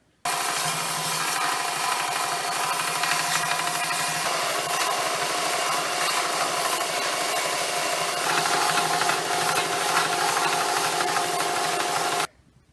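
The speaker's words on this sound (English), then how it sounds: "what I'm going to do next is I'm going to sand this top part down so it's skinnier" Steady, continuous rasping as a wooden warhammer head is sanded down to slim its top, loud and close, running unbroken for about twelve seconds before stopping abruptly.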